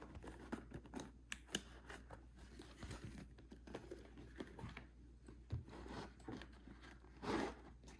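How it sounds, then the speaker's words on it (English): An old leather case on a 1917 Autographic Kodak 1-A camera being opened and the camera drawn out, quiet close clicks, scrapes and leathery rustles in irregular bursts, with no talking. "We're going to go ahead and open that and pull out the camera"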